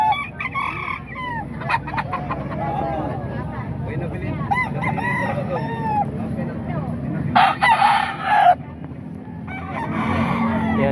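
Roosters crow and chickens cluck at a poultry market in Baliwag, with repeated calls near and far layered over a busy background of voices and general market noise.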